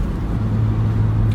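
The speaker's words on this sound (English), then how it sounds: "Car is pulling well to red line." BMW N54 E91 335 wagon engine pulling under load, a steady loud droning engine note held for a brief stretch, heard from inside the car.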